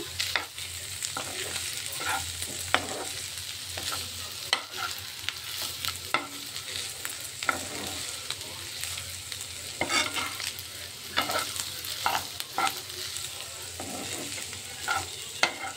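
Bitter gourd curry frying in a pan after chili powder is added, Andhra style: a steady close sizzle with frequent scraping clicks of a spoon stirring throughout.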